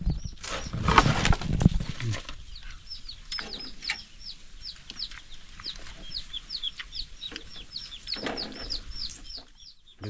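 Chickens cluck in a fast, repeating series of short calls at a moderate distance, with a couple of louder, broader bursts near the start and again later.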